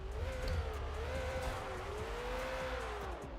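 A Shelby King Cobra race car in a racing video game at Watkins Glen holds a steady, droning engine note that wavers slightly in pitch, up close and continuous with no speech.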